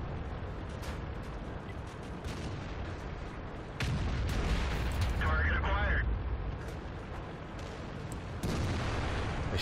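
World of Tanks IS-3 heavy tank firing its cannon, a deep heavy boom amid rumbling engine and battle noise, with a voice talking over the game sounds.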